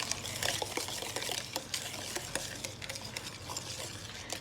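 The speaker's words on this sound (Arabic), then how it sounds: "هذه المكونات كامل نخلطهم مع بعض" Flour, salt and egg white for brioche dough are stirred together in a bowl. The mixing makes a close, continuous scraping and swishing texture with small irregular clicks and taps.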